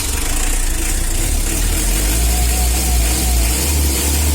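Car engine idling on a standard stock exhaust, a steady loud low rumble close to the microphone that holds without change, with no voices.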